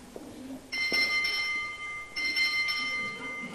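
An emergency call bell rings in long sustained bursts, two ringing passages with a short gap between, fairly close, amid a room's faint background.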